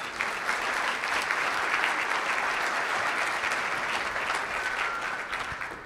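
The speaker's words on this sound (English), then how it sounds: "you all deserve a great big hand of applause for what you do" An audience at a C-PAC conference applauds, sustained hand-clapping from a large crowd that stays loud and even for several seconds before easing slightly at the end.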